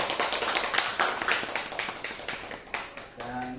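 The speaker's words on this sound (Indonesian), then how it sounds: "Tepuk tangan buat Bu Siti." An audience claps at a school dissemination session in an elementary school in Jakarta, a moderate patter of hands over a few seconds that thins toward the end as a voice begins.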